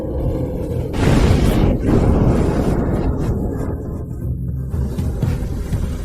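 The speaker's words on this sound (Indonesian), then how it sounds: "Guntur dari 9 langit bergemuruh." Deep thunder rolls and rumbles continuously, with a heavy boom early on that slowly settles into a low, sustained growl.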